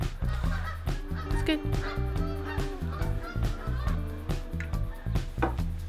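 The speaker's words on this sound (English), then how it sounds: "all the geese are moving in regular formation" A flock of geese honks in repeated, overlapping calls at a steady pace, fairly close and continuous, while someone briefly speaks over them.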